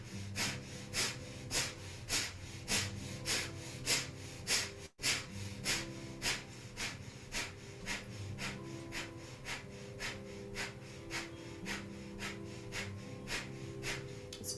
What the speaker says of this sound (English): We'll begin 1 minute of breath of fire, panting like a dog through the nose.